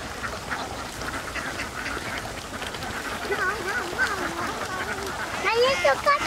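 Ducks quacking in a rice field, with repeated calls over steady outdoor background noise and people talking nearby.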